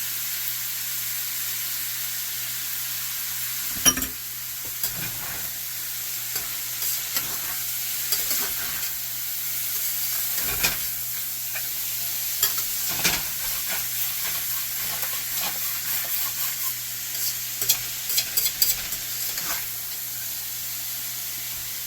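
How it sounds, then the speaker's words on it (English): Ground meat with added vegetables and seasoning fries steadily in a pan for a cheese steak sloppy joe, a constant close sizzle broken by scattered spatula clicks and scrapes, no voices. "this is just going to be cooked until the meat's done"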